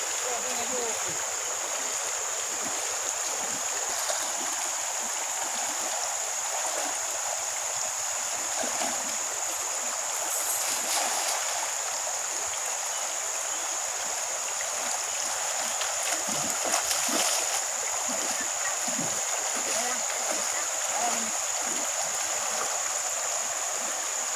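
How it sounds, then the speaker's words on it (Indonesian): A fast, strong current on a Kalimantan river rushes in a steady, dense broadband roar throughout, with faint voices and occasional splashes underneath. "Arusnya sangat deras, teman-teman."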